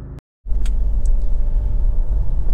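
A Honda HR-V 1.6 i-DTEC diesel engine idles with a steady low rumble after a brief silent gap at the start, close and even throughout with no voices.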